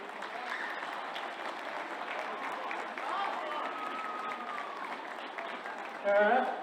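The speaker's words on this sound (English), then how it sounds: "I can give both teams, both sets of players and management a big round of applause" Crowd applause for both teams, players and management after the Tyrone Junior Championship final between Aghaloo and Kileeshil, a broad steady clapping wash with crowd noise, swelling louder near the end.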